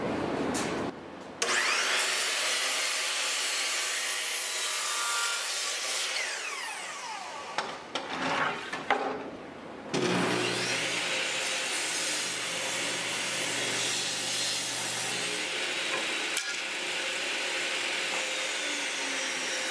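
A saw cuts through a piece of walnut in two long, steady passes, loud and close, with a brief pause and a few knocks between them and no talking.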